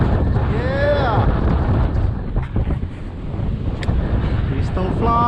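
Hurricane-force wind roars and buffets close to the microphone while a small drone flies in it, a heavy low rumble throughout with a brief rising whoop of a voice early on.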